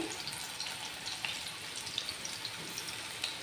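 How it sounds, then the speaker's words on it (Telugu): Bitter gourd (kakarakaya) slices fry crisp in oil over a medium flame, giving a soft, steady sizzle with scattered small pops and crackles, heard close but fairly quiet. "మీడియం ఫ్లేమ్లో చక్కగా క్రిస్పీగా వచ్చేంత వరకు మనం వీటిని వేయించుకోవాలి"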